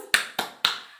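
Three sharp claps spaced about a quarter second apart, loud and close, from a primary school class doing the 'tepuk semangat' clapping chant, with no voices over them.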